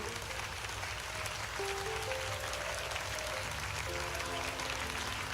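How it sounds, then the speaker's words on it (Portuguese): A church congregation claps steadily during a worship service, a dense pattering of hands blended with sustained music and a voice. "glorifique ao Senhor com palmas"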